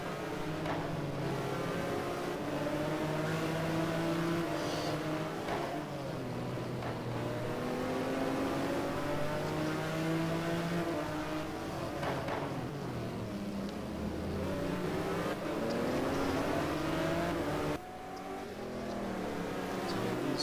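Race car engines in a racing video game drone continuously at Laguna Seca through the corkscrew, several cars together with shifting pitch as they brake and accelerate, steady and fairly loud throughout.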